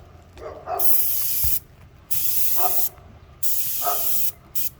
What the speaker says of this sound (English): Just very carefully, spray, 2 or 3 sections at a time